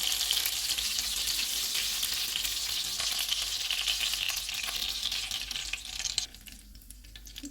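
Kafta kebabs fry in hot oil with a close, steady hiss and crackle, and the sizzle drops away sharply near the end.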